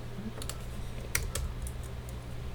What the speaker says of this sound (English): if I can type it correctly